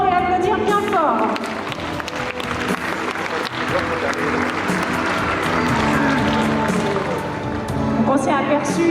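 Spectators at an orca show applaud the killer whale Wikie, a steady wash of clapping over music with melodic tones, lasting throughout at a fairly even level.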